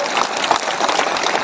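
Crowd at an election rally on an airfield ground applauding a candidate, a steady dense wash of clapping filling the short stretch with no pauses.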